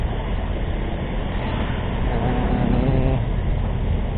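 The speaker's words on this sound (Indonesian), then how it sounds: "gue mau berusaha nyalip mobil di depan nih" Motorcycle riding an unlit public road near Teluk Naga, overtaking a car ahead; a steady loud engine and road rumble with wind, rising slightly during the pass, no speech.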